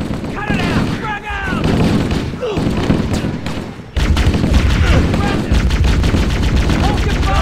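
Rapid bursts of automatic gunfire and weapon blasts from the Halo: Combat Evolved (Master Chief Collection, modded) Control Room assault, loud and continuous with a short lull near the middle, while players shout over the shooting.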